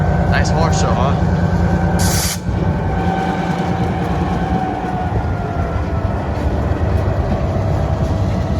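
Steady close rumble of a train passing along the tracks at Lake Avenue in Blasdell, New York, continuous rolling clatter of rail cars throughout, with a brief sharp burst early on.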